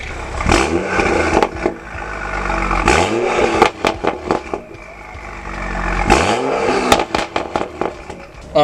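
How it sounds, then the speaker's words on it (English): A tuned BMW with an N55 engine is revved hard three times at close range. Each sharp rise in pitch drops back to a rough idle between bursts, with some clatter in the gaps. "I'm gonna give you guys a couple revs real quick."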